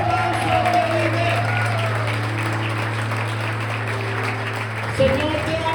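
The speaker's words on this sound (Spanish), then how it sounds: "denle fuerte ese aplauso al que vive" A church congregation applauds steadily in a loud, reverberant room, a sustained wash of clapping under a low organ or keyboard drone, with a voice speaking over it.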